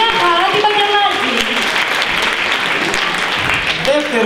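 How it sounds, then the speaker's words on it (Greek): Audience applause at a Greek Tsiknopempti singing contest in Agios Nikolaos, steady dense clapping that holds loud throughout, with a presenter's voice faintly over it at the start and end. "Να το χειροκρότημα!"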